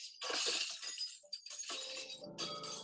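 A wine glass shatters from a singer's sustained voice, a loud bright crash followed by scattering, tinkling fragments and a second burst of breaking glass.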